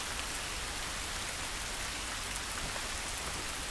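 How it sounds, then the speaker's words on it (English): Steady rain falls throughout in The Last of Us Remastered on PS4, a loud, dense, even hiss of drops on surfaces with no voices or other sounds breaking through. "is it because of the rain?"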